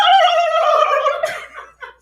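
A loud, close turkey gobble, a rich harmonic rattling call lasting over a second that trails off into a couple of shorter clucks.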